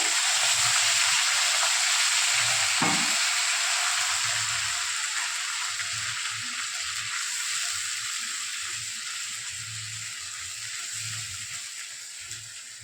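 Ground spice paste sizzles in oil after water is added, a loud hiss that slowly fades, with faint rhythmic low stirring knocks underneath.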